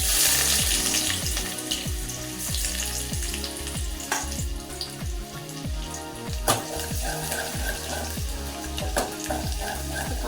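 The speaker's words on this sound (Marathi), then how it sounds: "कांदा असं छान परतवून घ्यायचा आहे." Onion frying in hot oil for a Kolhapuri chicken curry, a loud continuous sizzle with rhythmic scraping stirs at a steady pace, heard close with no voices.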